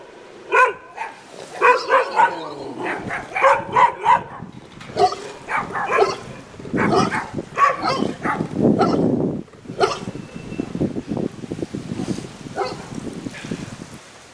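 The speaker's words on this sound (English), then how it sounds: "That's Mexico, tons of dogs." Several dogs bark and yip in overlapping bursts, fairly close, in Baja California Sur, Mexico, with some lower barks and whimpers mixed in, tapering off toward the end.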